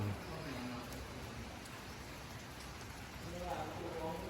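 Steady rain falls outdoors at a Thai village temple, a continuous even hiss that lasts the whole time, with a voice briefly speaking near the end.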